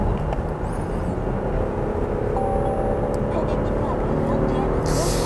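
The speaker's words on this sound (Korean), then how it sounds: "이렇게 가속을 진행을 했을 때 저속에서는 다르게 굉장히 배기음도 나름 럭셔리카 치고는 굉장히 우렁차게 느껴집니다" A Cadillac CT6 accelerating on a highway gives a steady, deep exhaust rumble with continuous road and cabin noise from inside the car, holding at a constant level throughout.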